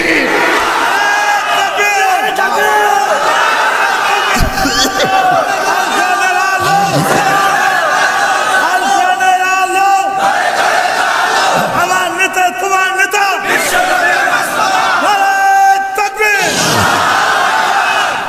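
A crowd at a Bangla Islamic sermon (waz) in Kushtia shouts the takbir response in loud, massed bursts. The chants come repeatedly and overlap over about eighteen seconds.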